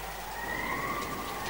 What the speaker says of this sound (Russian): Вьетнамские дожди, отлично.